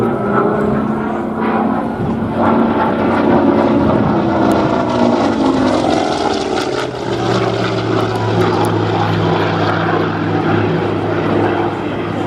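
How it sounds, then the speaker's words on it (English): A Hawker Sea Fury FB 10 propeller fighter flies past at an air show, its loud piston engine droning continuously, with the pitch sliding lower midway as the plane passes and moves away. "this is the end of the line in terms of propeller-driven Hawker, the Sea Fury."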